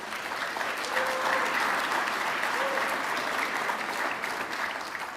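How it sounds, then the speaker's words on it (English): A crowd at the Sacramento State of the City address applauds the sponsors with a steady, even wash of clapping that lasts the whole stretch, with faint voices beneath. "Let's give them a round of applause."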